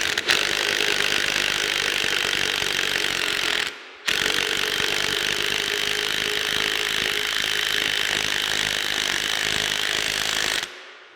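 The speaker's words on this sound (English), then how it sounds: "I'm just going to use my impact wrench here, or electric wrench, whatever you want to call this thing" An electric impact wrench hammers at a gear puller on a three-phase lathe motor, making two loud, continuous rattling bursts of several seconds each, close up, with a brief pause between them.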